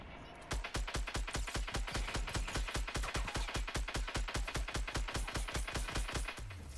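Rapid automatic gunfire in a video game, a long unbroken burst of evenly spaced sharp shots lasting several seconds, loud and close, with no talk over it.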